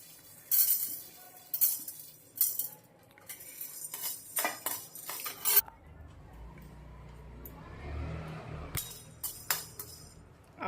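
Cinnamon, cloves and black pepper dry-roasted in a pan for homemade garam masala, with repeated sharp clinks and rattles of a metal spoon against the pan, irregular and close, then a quieter stretch before more scraping taps.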